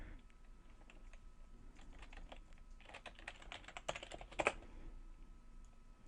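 Bursts of light typing on a computer keyboard, quiet and close, growing busier and louder toward the end with no talking.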